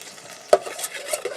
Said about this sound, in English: I got a piece of rye toast in the butter.